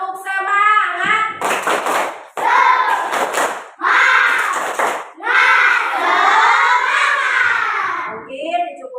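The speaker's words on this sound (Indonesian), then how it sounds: "Tepuk semangat." Schoolchildren in a classroom chant and shout loudly in rhythmic bursts for a spirit clap routine, with hand claps mixed into the group cheering, pausing between phrases and ending with a softer voice.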